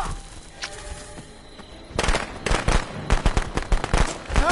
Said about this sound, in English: I threw the firecrackers at you.